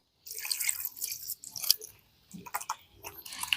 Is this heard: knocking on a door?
no